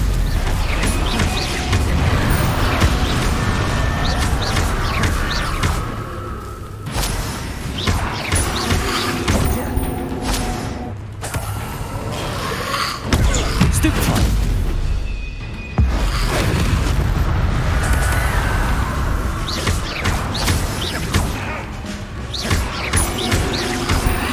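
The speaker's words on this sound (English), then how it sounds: "Incendio! Confringo!" Confringo spell explosions in the video game Hogwarts Legacy, loud crashing blasts repeated over a dense, busy battle din of impacts and effects.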